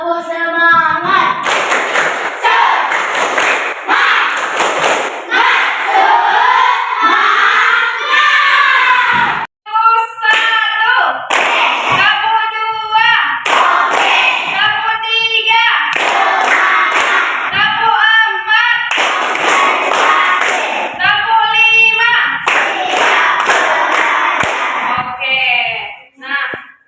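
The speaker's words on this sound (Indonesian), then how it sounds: "sebelum memulai materi pembelajaran tepuk semangat terlebih dahulu" A school class performs the rhythmic 'tepuk semangat' clapping chant, voices shouting in unison over sharp, loud, patterned hand claps that repeat in bursts from start to finish.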